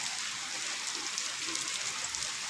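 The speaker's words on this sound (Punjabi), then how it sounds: "ਧੁੱਪ ਦੇ ਵਿੱਚ ਪੂਰਾ ਮੀਂਹ ਪਈ ਜਾਂਦਾ" Steady rain falls during sunshine, a dense, even hiss of drops on surfaces that holds at a constant level throughout with no voices.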